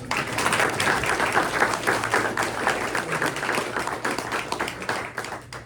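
Steady round of clapping from a press luncheon crowd for two awardees, dense and fairly loud throughout, tapering slightly at the end.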